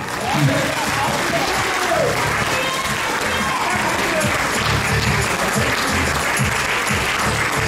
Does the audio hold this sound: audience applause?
yes